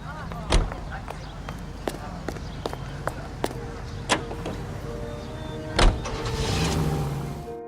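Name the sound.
car starting and driving in video game L.A. Noire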